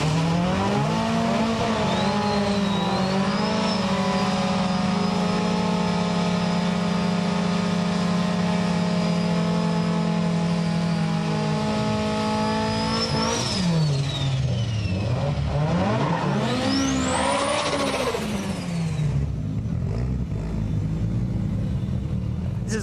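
Nissan 180SX drag car built by Top Fuel with a large Trust T8834D turbo at a street drag event, its engine droning at a steady high pitch before climbing and revving through gear changes, loud and close throughout.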